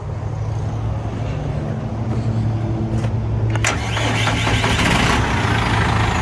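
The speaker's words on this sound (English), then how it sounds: "now I will fire up the auxiliary engine" An engine cranks and catches, then settles into a loud, steady running rumble with a rising roar of machinery nearby.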